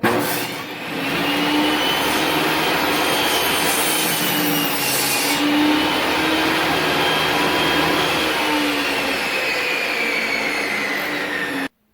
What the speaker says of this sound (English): you can raise your blade up to about a 1/16 of an inch above the thickness of your board and make the cut